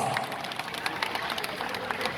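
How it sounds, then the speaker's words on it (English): Audience applause for a queen at a celebration, a steady wash of many hands clapping at moderate distance, fairly soft and continuous throughout. "Give her a big round of applause."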